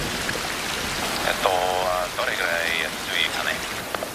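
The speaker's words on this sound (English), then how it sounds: "until it rains" Steady rain pours continuously on the slopes of the Sakurajima volcano, a dense hiss close and loud throughout, with a narrator's voice over it.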